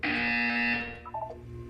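A loud electronic buzzer in the video game Portal 2 blares for under a second, then cuts off, followed by faint brief tones and quieter background hum.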